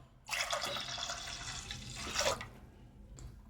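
Water pours into a pan of milk for double ka meetha on the stove for about two seconds, a bright, splashing stream that stops abruptly, followed by a single faint drip.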